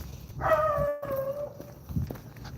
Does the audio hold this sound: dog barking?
yes